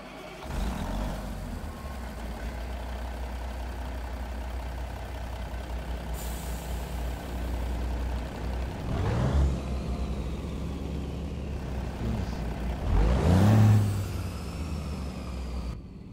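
A Kenworth T800 with a Cummins N14 diesel in a truck simulator cranks and fires up, settling into a steady low idle, then revs rise and fall twice with air brake hisses, heard alone.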